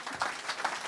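A church congregation claps in praise of the Lord, a brief burst of broadband applause with a few sharper clap peaks, fairly faint and with no clear speech.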